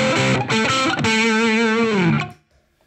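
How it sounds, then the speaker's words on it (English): An electric guitar played through a high-gain distortion pedal rings out loud and saturated: a few quick picked notes, then a sustained thick chord with wavering harmonics that fades out near the end. "For the high gain sounds, I'll use the distortion."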